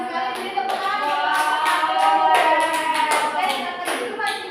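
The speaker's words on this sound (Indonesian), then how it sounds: "Beri tepuk tangan" Students clapping in a classroom, a group of hands beating in uneven rhythm while a voice or hum carries underneath, moderately loud and continuous for several seconds.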